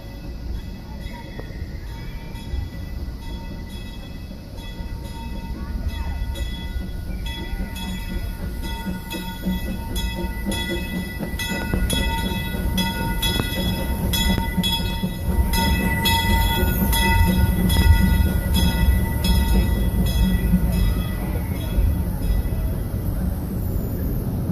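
Disneyland train rolling across a newly built bridge, a steady rumbling clatter of wheels and cars that builds louder as it passes close by, with a brief horn or whistle note and outdoor crowd noise.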